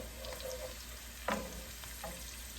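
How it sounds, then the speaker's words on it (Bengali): Chickpeas cooking in a pan with oil, chilies, bay leaf, dried chili and ginger-garlic paste, giving a soft, steady sizzle with a brief clatter of stirring midway and faint scraping later. "এখানে আমরা ছোলা ভুনা করতে চলে এলাম"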